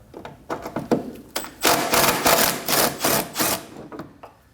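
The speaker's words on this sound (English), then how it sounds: "Using a 10mm socket, go ahead and take it out." A 10mm socket on a ratchet loosens a bolt holding the washer fluid reservoir of a 2011-2016 Kia Optima, making close, quick bursts of ratcheting clicks and metallic scraping in uneven spurts.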